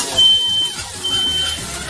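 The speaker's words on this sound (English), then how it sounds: "I think your smoke alarm's going off" A smoke alarm sounds in a home kitchen with two long, loud, high-pitched electronic beeps separated by a short gap, heard over a noisy room.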